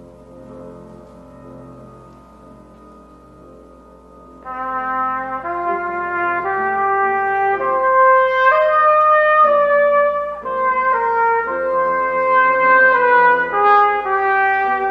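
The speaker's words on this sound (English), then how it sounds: "And Proclamation, it makes its appearance towards the end. I'd like to play it for you." Solo trumpet recording of Proclamation, a Jewish art music piece: a soft low sustained passage opens, then a loud bright melodic line of rising and falling notes with ornamental runs carries on steadily to the end, no voices present.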